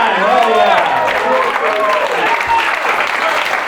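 A comedy show audience claps and cheers in a dense, loud burst that runs the full length, with whoops rising through the applause.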